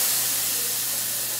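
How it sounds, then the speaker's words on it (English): Steak searing in a hot pan after onions and garlic, giving a steady, loud broadband sizzle and hiss that runs without break, close to the pan, with no talk over it. "About to sear the steak, give it a nice crisp."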